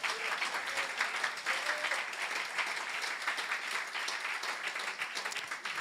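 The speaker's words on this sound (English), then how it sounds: "Come on, clap for Jesus." Congregation applause at a Sunday church service, steady dense clapping from a large crowd throughout, fairly distant and even, with no one speaking over it.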